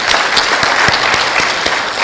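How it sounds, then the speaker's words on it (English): An audience at a Kenyan State Department for Diaspora Affairs event, presided over by PCS Mudavadi, breaks into steady applause: dense, continuous clapping with a few sharper claps standing out, sustained at an even level for the whole stretch. "Could we please give them a round of applause?"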